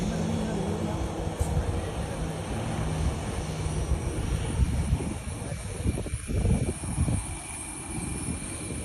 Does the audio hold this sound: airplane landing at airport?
yes